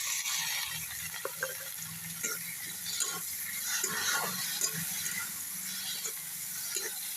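Spice masala with chopped tomato frying and being stirred in oil in a pan, giving a continuous close sizzle broken by soft scraping and clinking of a spatula, with no talk.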